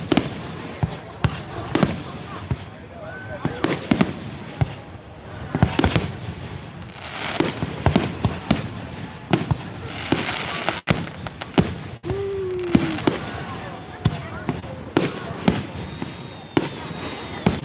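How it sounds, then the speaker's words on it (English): Fireworks at a fair in Milan, Michigan, burst in a dense irregular barrage of loud cracks and booms, some heavy thumps among them, with crowd voices and chatter underneath the whole time. "we are in Milan, Michigan for their fireworks display"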